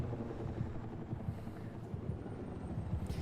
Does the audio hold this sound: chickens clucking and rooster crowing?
no